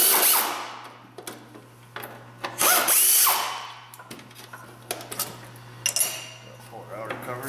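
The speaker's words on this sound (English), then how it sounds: "We'll grab our air ratchet here. Get a 10 mil and just go bananas." An air ratchet with a 10 mm socket spins out timing cover bolts on a Subaru EJ25D 2.5 DOHC engine, giving loud bursts of pneumatic whirring between metallic clinks of bolts and tools over a steady compressor hum.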